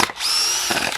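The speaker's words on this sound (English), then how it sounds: "This Dewalt drill is strong." A Dewalt DCD795 cordless drill on a 5 amp battery spins up in one short, close, high whining burst of about half a second, then winds down.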